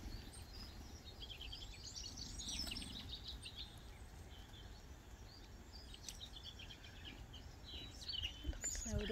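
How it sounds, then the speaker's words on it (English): Small birds, including blue tits, chaffinches and siskins, chirp and twitter faintly in the distance over a low, steady outdoor rumble and trickling water, with scattered calls throughout. "Can you hear the trickle of water and the birds?"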